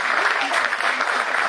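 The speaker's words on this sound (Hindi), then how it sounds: "जोरदार तालियों के साथ।" A dense, even burst of audience applause fills a kavi sammelan poetry recital at Bharati Vidyapeeth, Paschim Vihar, loud and continuous with no gaps.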